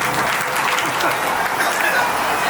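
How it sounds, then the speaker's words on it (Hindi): Audience at a Hindi comedy show applauds in honour, a dense, loud, continuous wash of clapping with no breaks across the whole short stretch. "एक बार ऊपर सम्मान में ताली बजा दो"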